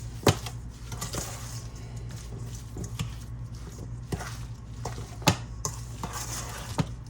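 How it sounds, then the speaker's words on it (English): Blueberry pie filling stirred in a bowl with a utensil, wet squishy churning punctuated by several sharp scrapes and clinks against the bowl, close and moderately loud, no speech. "I'm just gonna stir it around like so."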